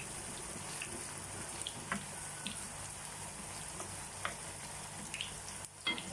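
Carrots sizzling in a pan for pancit canton as they are stirred, with steady close frying hiss and occasional light clicks of the utensil against the pan.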